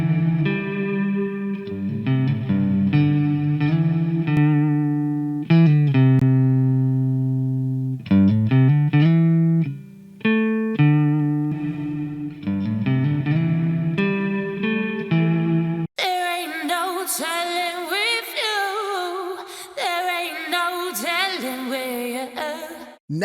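Demo of the We Love Walter Sabrina Reverb plugin on Windows, a sustained synth or keyboard tone drenched in reverb, then a brighter, busier passage with long washy tails, loud and steady with no talk.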